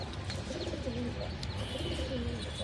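Pigeons coo softly in a repeated low warbling pattern over a steady background hum, several calls close by with no talk.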